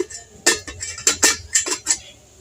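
A metal lid is set onto a pot of simmering rasmalai in milk, making a quick run of sharp clanks and rattles, about five or six loud knocks close by.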